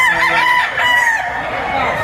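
Several gamecocks crow loudly and close at a busy rooster market in Lipa, Batangas, overlapping cries rising and falling with clucking and faint crowd murmur beneath.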